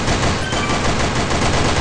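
A continuous loud stream of automatic fire rattles without a break while shooting red and blue duck targets in the online shooter Sudden Attack.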